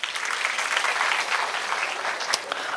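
Audience applause at a happiness and wellness workshop session, a dense, steady clapping that fills the whole moment, loud and close with no talk over it.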